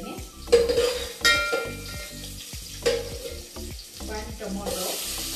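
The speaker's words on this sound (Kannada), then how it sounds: "ಇವಾಗ ಬಂದು ಕಟ್ ಮಾಡಿಟ್ಕೊಂಡಿರೋದು ಒಂದು ಸ್ಮಾಲ್ ಸೈಜ್ ಆನಿಯನ್ನ ಹಾಕ್ತಾ ಇದ್ದೀನಿ" A chopped small onion goes into hot oil for drumstick sambar, setting off bursts of sizzling along with clanks of a pot and utensils and some stirring in a home kitchen.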